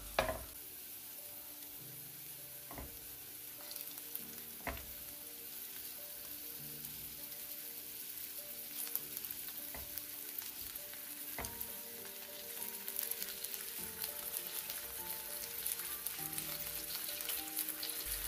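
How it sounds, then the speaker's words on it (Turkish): Meatballs fry in a teflon pan with a soft, continuous sizzle. A few sharp clicks and knocks from stirring or turning break in now and then, with no talking. "İlk başta normal köfte kızartıyormuş gibi köftelerimizin her bir tarafını mühürleyeceğiz."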